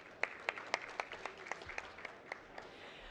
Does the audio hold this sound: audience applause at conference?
yes